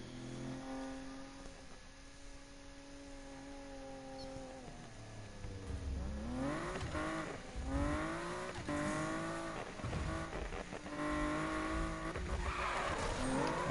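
Car engine revving and tires squealing in Need for Speed, a droning motor early on, then repeated rising whines and skids growing louder in the second half.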